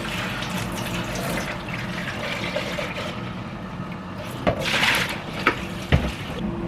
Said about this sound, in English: So then we just need to rinse this through.